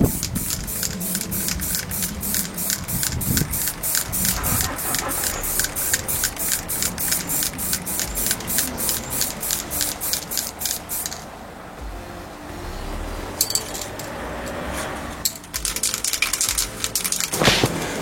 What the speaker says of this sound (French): j'ai peint le grillage de notre range CD avec une pompe de peinture